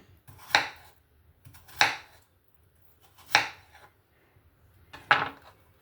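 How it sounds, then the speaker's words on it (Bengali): Potatoes are cut into pieces with a knife, making four sharp, crisp chops against a board, spaced unevenly about a second or more apart, close and otherwise quiet. "এবার আমি আলুগুলোকে একটা ছুরির সাহায্যে দেখুন এরকম চার টুকরো করে বা দু টুকরো করে যেরকম পারেন একটু কেটে নিয়ে"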